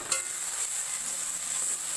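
Pomfret cooking in mustard oil, heard as a soft, even sizzle with a small sharp tick at the start.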